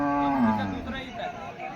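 A cow at a bullock and cattle market in Umarkhed gives a single close, loud moo that falls in pitch and fades, with crowd murmur behind it.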